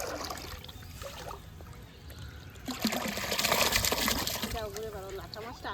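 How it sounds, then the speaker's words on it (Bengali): Clean water flows and trickles steadily into a fish pond, growing louder midway, while a person talks over it nearby. "এই দেখুন কত সুন্দর পরিষ্কার জল নিচ্ছে"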